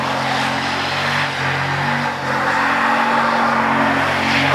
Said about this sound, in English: those tires sound pissed off